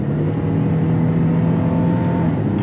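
A 2021 Hyundai Palisade Limited engine hums loud and steady as it revs on a paddle-shift downshift, a continuous droning note with no voices.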